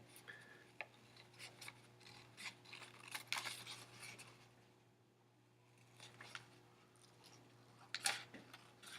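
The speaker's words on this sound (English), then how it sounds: "now I'm done cutting out my cube net" Scissors snip through a paper cube net in short, quiet bursts of cutting and rustling, close by, with a steady low hum underneath and no talking.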